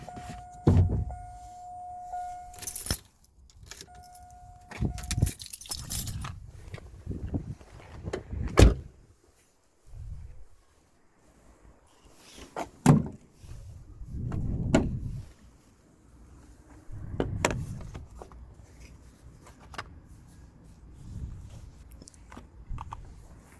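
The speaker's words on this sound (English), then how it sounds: "Let's turn off the lights and open the bonnet." On an Opel Astra, a bonnet is released and opened: a few sharp clicks and thuds of latch and panel, scattered handling knocks and shuffles, a brief electronic tone early on, and quiet gaps between.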